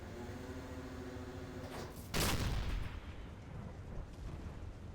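In the submarine video game Silent Hunter 3, a single heavy explosion boom bursts out over a steady low rumble, then fades back into the droning background.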